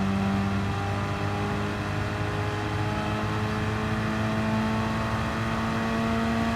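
A race car engine in a racing video game at the Suzuka circuit drones steadily at high revs as it accelerates through the gears, a loud continuous engine tone with no talk.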